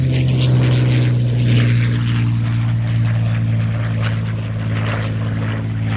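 A propeller aircraft drones steadily overhead at RAF Mildenhall, a loud continuous engine hum that holds level throughout.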